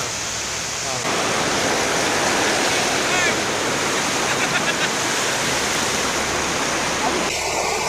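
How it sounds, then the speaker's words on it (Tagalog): Loud, continuous rush of fast-moving floodwater, a dense roaring wash that starts abruptly and stays steady, with faint voices beneath. "Kusog kayong baha"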